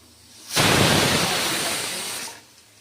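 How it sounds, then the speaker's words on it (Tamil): A pressure cooker whistle blasts as steam vents while cabbage kootu cooks, a loud steady hiss that starts abruptly, holds for about two seconds and then cuts off, with no talk over it. "1 விசில் வந்தாச்சு."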